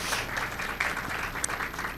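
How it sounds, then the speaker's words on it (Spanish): A brief stretch of dense audience clapping at a book presentation, welcoming a speaker, steady and fairly close for about two seconds with no talk. "Les pido que por favor le den un aplauso"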